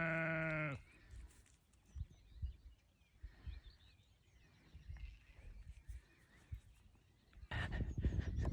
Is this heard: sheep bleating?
yes